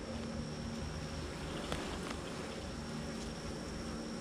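Honeybees crowd a packed hive with a full honey super in midsummer, producing a faint, even, continuous buzzing hum with a few soft ticks and no voices.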